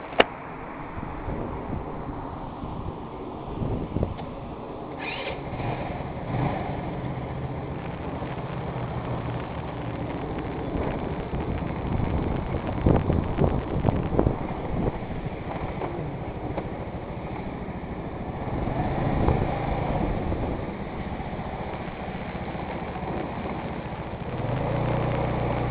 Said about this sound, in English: 125 Dazon scooter, retro style. It just got worked on and needs to be test driven.